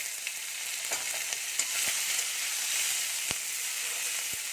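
Grated ginger and green chili fry hard for vegetable chop, a bright, continuous close sizzle with a few sharp ticks and spatula taps.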